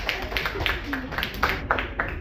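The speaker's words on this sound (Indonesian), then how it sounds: "Sekali lagi kita beri tepuk tangan untuk" Hand claps from a crowd at a parish youth Bible quiz competition, a steady run of crisp, fairly close claps with faint murmuring voices in the background.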